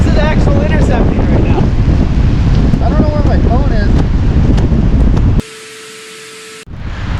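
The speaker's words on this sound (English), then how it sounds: "It is windy." Strong blizzard wind, gusting around 50 to 60 mph, roars on top of Mount Si as loud, steady buffeting against the microphone, with voices faintly shouting underneath before the sound cuts abruptly to a thin tone.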